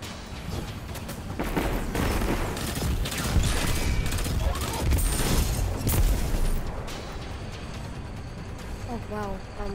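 Gunfire from a weapon in the video game Destiny 2, dense, loud bursts of shots and booms running through most of the stretch, with game effects and a voice layered over it.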